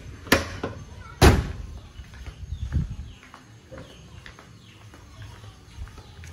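Left door of a Toyota Kijang Super Ranger SSX three-door car opening and shutting, with two sharp loud latch clunks close together near the start, then faint rattles and lighter knocks fading into quiet.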